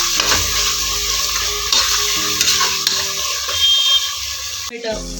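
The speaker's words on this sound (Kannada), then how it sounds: "ಇವಾಗ ಕಟ್ ಮಾಡಿ ಇಟ್ಕೊಂಡ ಟೊಮೆಟೊನ ಹಾಕಿ ಚೆನ್ನಾಗಿ ಬೇಯಿಸ್ಕೊಳ್ಬೇಕು" Chopped tomatoes cook in a hot pan with a loud, steady sizzle and stirring scrapes, over a low mechanical hum that cuts out near the end.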